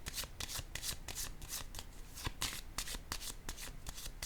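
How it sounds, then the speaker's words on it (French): Cards are shuffled and set down during a card reading, giving quick close papery riffles and soft slaps in a fast, uneven rhythm with no voices. "Je vais déposer une carte sur le guide."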